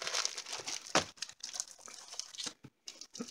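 Paper crinkles and rustles as it is handled up close during a craft-supply unboxing, a busy run of crackling bursts with brief pauses and no talking.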